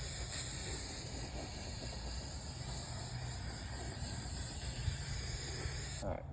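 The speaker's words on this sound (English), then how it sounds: "spray the back side a little bit." An aerosol spray can coats the back of a corroded pool skimmer with a steady, close hiss that runs continuously and stops abruptly near the end.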